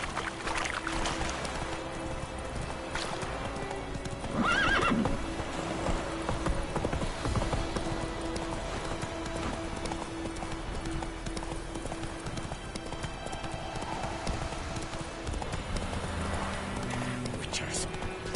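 Horse hooves clop in a steady rhythm in The Witcher 3: Wild Hunt, a continuous trotting beat under game ambience and occasional voices.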